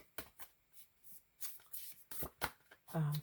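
A deck of cards is shuffled by hand in a series of short riffles and soft flutters, close and quiet, with a brief bit of talk at the end.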